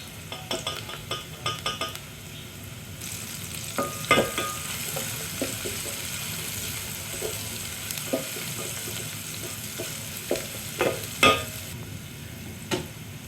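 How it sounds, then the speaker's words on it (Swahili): Onions sizzling in a pan beneath clattering stirs and scrapes of a utensil, with a brief running-water sound partway through. "Tutaanza kukaanga na kitunguu maji kwanza"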